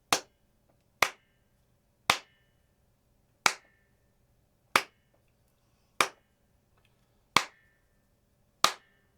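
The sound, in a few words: hand claps with resonating ring from music stand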